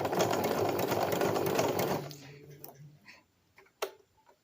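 A sewing machine embroiders with a zigzag stitch, running in a rapid, even mechanical whir for about two seconds before stopping, followed by a few faint clicks and taps in near silence.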